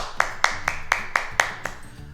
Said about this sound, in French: et on s'applaudit, mesdames, messieurs